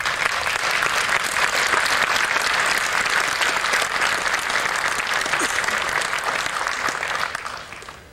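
Loud, dense audience applause fills a room at a 1995 Mortal Kombat 3 launch event, sustained clapping from a large crowd that fades out at the end.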